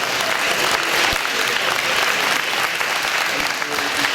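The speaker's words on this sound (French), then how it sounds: "Encore un petit applaudissement" Audience applause after a choir performance at a charity choral concert, steady dense clapping throughout, fairly loud and sustained, with no clear voices.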